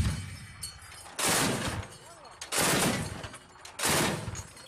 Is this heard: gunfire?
yes